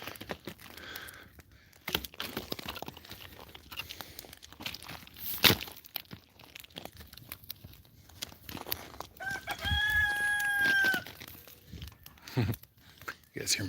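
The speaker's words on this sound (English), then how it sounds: "You guys hear my chicken?" A chicken outdoors at dawn near a Hawaiian coastline clucks intermittently, then lets out a loud, drawn-out crow near the end, with crackling campfire sounds and scattered sharp noises around it.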